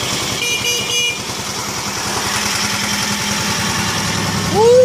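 A tractor engine runs steadily nearby with a loud, throbbing rumble that holds even throughout and swells slightly at the end.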